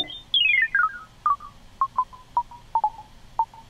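Short electronic bleep tones generated in Max/MSP, a quick descending run of blips followed by single and paired beeps at roughly half-second intervals, clean and close.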